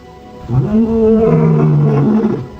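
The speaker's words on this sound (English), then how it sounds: "the lions are calling the pride they last saw 10 months ago" Two male lions roar loudly and close by, calling to their pride in the wild. Deep, bellowing calls overlap in a sustained, rolling chorus.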